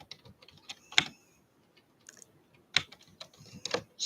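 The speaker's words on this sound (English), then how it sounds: "The keyboard doesn't like the letter A." A computer keyboard is typed on in irregular bursts of sharp clicks, with a few louder key strikes standing out. The typing is close and quiet, with no voices and short pauses between bursts.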